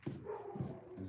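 A dog gives two or three short, soft barks or yips from a distance in quick succession, heard from a pottery studio.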